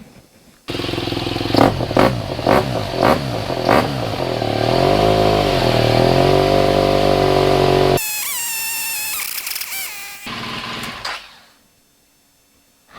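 A BMW R 1200 GS motorcycle engine cranks and catches, then settles into a steady rumbling idle with some revving before cutting off to near silence.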